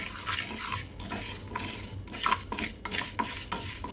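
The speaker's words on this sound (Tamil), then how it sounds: "இது எல்லாத்தையும் சேர்த்து நல்லா வறுத்துக்கலாம்." Coriander seeds and spices dry-roast in a pan for Tirunelveli-style ground sambar as a spoon scrapes and stirs in a steady rhythm, with dry rustling and light metallic clinks close by.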